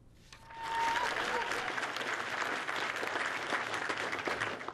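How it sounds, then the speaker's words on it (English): Applause from a standing-room-only crowd of students, teachers and residents fills a lecture hall, a dense steady clatter of many hands that swells quickly and holds loud throughout. "The night started out in applause"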